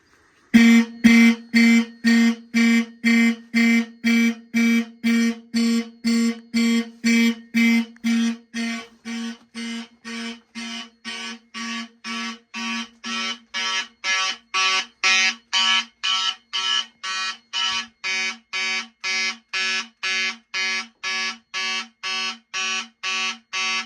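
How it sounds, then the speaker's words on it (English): A fire alarm system triggered by a Simplex detector sounds a loud, close electronic horn in rapid, evenly spaced pulses, roughly two per second, continuing for the whole stretch. Partway through it shifts to a slightly quieter, brighter tone. "So the device I want to activate next is the Simplex detector."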